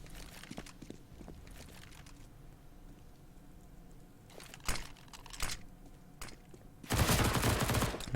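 SMG fire in a tactical shooter match, with short bursts and scattered shots early, then a dense sustained volley at the end, over a quiet game backdrop.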